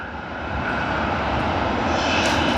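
Emirates airliner in UAE flag livery at Sydney Airport, a loud jet engine roar building slightly and holding strong and close, with no talking.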